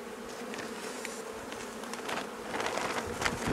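Honeybees hum in a steady, close swarm around an open beehive while its frames are being checked, a dense continuous drone that swells slightly louder toward the end.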